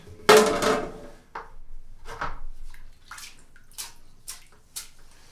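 Plastering hawk and trowel being wetted down with a brush and water, heard as a loud opening splash and then a series of short wet brushing swishes, close and alone.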